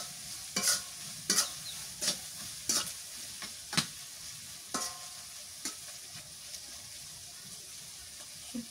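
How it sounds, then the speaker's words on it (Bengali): Dried fish (shutki) frying with salt in a pan, stirred in repeated scraping strokes over a soft, steady sizzle, close and fairly quiet, with no talking. "নুন দিয়ে শুটকিটা ভাজলে মজা লাগে"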